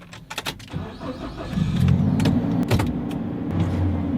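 A manual-transmission car pulling away in New Zealand, its engine revving up steadily from a low rumble into a sustained mid-pitched drone, with a few small clicks and knocks at the start.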